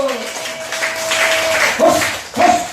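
A church congregation at a Korean healing revival service applauds in a broad, continuous wash of clapping, with sung or sustained voices over it and louder surges near the end.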